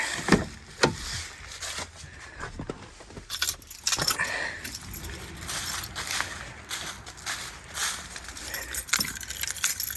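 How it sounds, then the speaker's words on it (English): Keys jangle and rattle close by in several bursts, with some soft handling noise and faint background rumble between them. "Keys."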